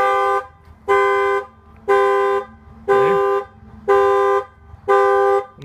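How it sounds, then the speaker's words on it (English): A factory car alarm fitted with an added impact sensor blares a loud, steady series of horn honks, about one per second, six in a row with short gaps between them. "if any banging on the car, the alarm will fire off."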